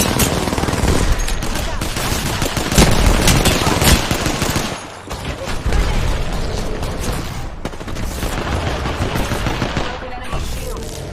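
Heavy automatic gunfire with overlapping bursts and booming impacts in the battle royale game Apex Legends, loud and continuous across the span, with a brief lull midway and a short spoken call over the shooting.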